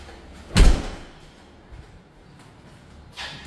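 One heavy steel door shuts with a loud thud and rattle, followed by quiet room noise and a faint later shuffle.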